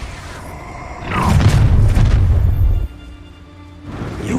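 A spell explosion from the Expulso curse in Hogwarts Legacy, a deep booming blast that swells and rumbles for over a second before cutting off, with quieter game sounds after.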